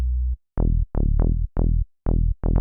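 Staccato synth bass line of short, clipped notes with quick decays, about six hits in an uneven rhythm after a brief sustained low tone, loud and alone.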